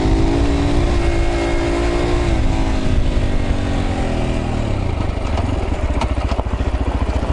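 A Zongshen RX3 Cyclone motorcycle rides an off-road trail, its engine loud and close, droning steadily and then shifting pitch as it revs and works over rough ground.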